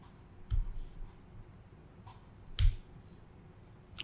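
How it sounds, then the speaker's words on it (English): A computer keyboard is struck with just a couple of isolated key presses, sharp soft clicks spaced about two seconds apart, in a quiet room with no talking. "you can just type 2 and press enter"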